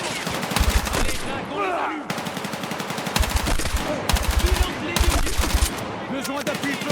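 Rapid bursts of machine gun fire in the Battlefield 6 campaign, several loud rattling volleys separated by short pauses, with game effects in the background.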